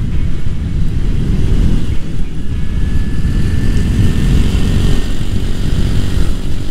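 Vespa GTS 150 scooter cruising at about 80 km/h, a loud steady engine drone buried in heavy wind roar throughout, recorded from the rider's position with no talking.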